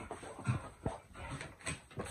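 Dog whimpering and whining to play, a few soft, close whines and snuffles in short bursts in a quiet room.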